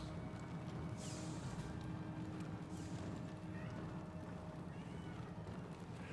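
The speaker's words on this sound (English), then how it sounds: "the cat is very upset that I won't let him into the room" A house cat meows insistently on the far side of a closed door, several muffled, drawn-out cries at irregular intervals, faint and distant beneath a steady background wash of video game sound.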